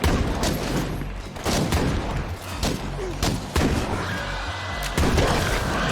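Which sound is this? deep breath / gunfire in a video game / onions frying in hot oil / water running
gunfire in a video game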